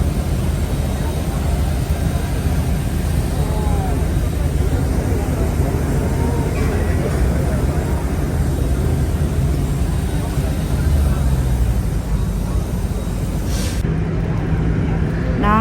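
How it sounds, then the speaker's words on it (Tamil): A shuttle bus carries passengers across the apron at Dubai airport, its steady engine rumble and road noise filling the cabin continuously, with voices talking faintly over it and a brief shift near the end. "துபாய் ஏர்போர்ட்டில் பஸ்ஸில் ஏறி ஏர்போர்ட்டுக்குள்ளே எங்களை கூட்டி போய் கொண்டிருக்கிறாங்க"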